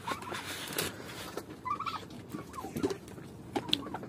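Rooster about six and a half months old calls in a backyard coop at morning feeding time, a hoarse crowing gobble heard alone at moderate distance with scattered clucks from other chickens.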